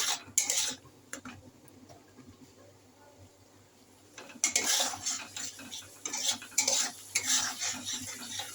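Spiced rice being stirred and sautéed with a spoon, clusters of sharp scraping and clinking strokes against the pan over a low sizzle, with a quieter pause between bursts, close and without speech.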